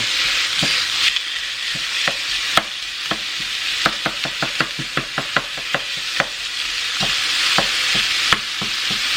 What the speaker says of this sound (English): Let's get this burger in here. I have it on a medium heat.